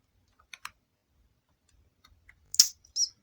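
Several sparse, quick keystrokes on a computer keyboard, a few isolated clicks followed by a louder cluster of taps near the end, close and fairly quiet with no talking.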